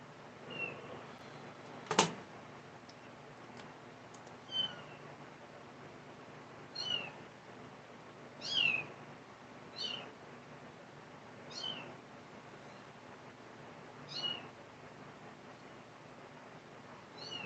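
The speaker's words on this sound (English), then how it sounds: "there goes that crying kitten again." A crying kitten meows repeatedly, thin high mews spaced every couple of seconds, faint and somewhat distant over a quiet room hum, with a single click near the start.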